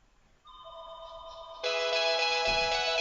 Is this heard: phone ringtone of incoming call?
yes